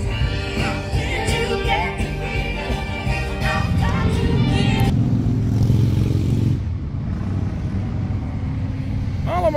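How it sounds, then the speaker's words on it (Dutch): Many motorcycles at an army open day on the Malieveld, a busy outdoor crowd event, rumble and rev loudly and continuously, a dense engine drone that thins out toward the end while a voice speaks over it. "Heel veel motoren."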